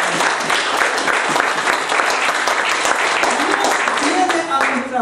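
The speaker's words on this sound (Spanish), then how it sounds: "puedes dar un aplauso al you can give Him Señor." A church congregation claps for the Lord during a bilingual Spanish-English sermon, a loud, dense round of applause filling the whole five seconds, with voices and some tonal sounds mixed in toward the end.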